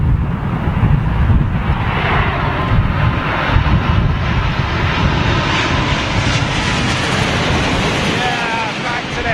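Airliners landing at London Heathrow Airport in stormy wind, a loud continuous jet engine roar mixed with heavy wind buffeting on the microphone throughout.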